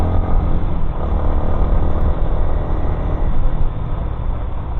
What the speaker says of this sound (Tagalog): Rinig na rinig mo yung ingay ng makina.